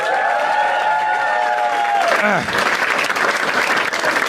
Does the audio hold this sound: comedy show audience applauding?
yes